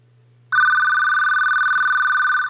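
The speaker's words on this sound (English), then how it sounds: "don't like to listen to a phone ring" A telephone rings with a single steady electronic trill lasting about two seconds, loud and close, over a faint low hum.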